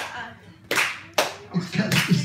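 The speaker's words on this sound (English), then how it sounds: "The clap is still slow." Slow, uneven hand clapping from a group at a talk event, with a few sharp claps spaced apart that build into a louder, denser burst toward the end.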